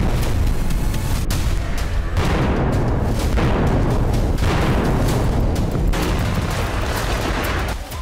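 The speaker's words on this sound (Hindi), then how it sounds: "इजरायली एयरफोर्स अब गाजा में बचे चंद रिहायशी इलाकों को भी समतल कर रही है।" Israeli air strikes and explosions hit residential areas of Gaza: loud, heavy booms and rumbling blasts follow one another almost without pause, with sudden sharp cracks between them.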